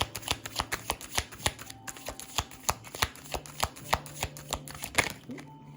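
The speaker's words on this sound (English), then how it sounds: "Let me get another card." Cards handled and drawn from a deck, a close run of rhythmic soft flicks and snaps repeating roughly every half second, with a voice faintly underneath.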